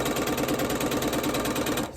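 A sewing machine stitches binding onto a panel quilt with a steady, loud, rapid mechanical chatter that keeps an even pulsing rhythm, then cuts off just before the end.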